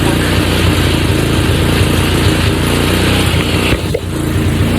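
The engine of a repaired $300 four-wheeler idles close by as a loud, steady rumbling putter, with a brief dip near the end.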